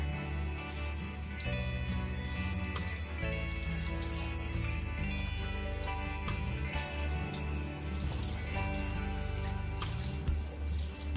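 Water pours steadily from a tap into a sink while it is being cleaned, a continuous rushing splash that holds near and loud for the whole stretch with no one talking.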